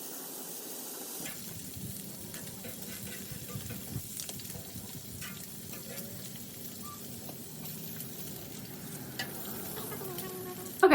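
Halved bacon slices sizzle quietly on a Blackstone flat-top grill, a faint steady crackle and hiss with occasional light taps and scrapes, heard close but low in level.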